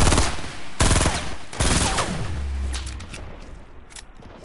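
Gunfire in a duos battle royale video game, with loud, close bursts of rapid automatic shots followed by a booming impact and scattered fainter shots fading out.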